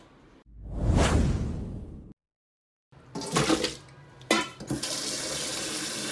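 Squid tentacles are rinsed under a running kitchen tap, with bursts of splashing, gushing water separated by a brief silent gap, then more intermittent splashes.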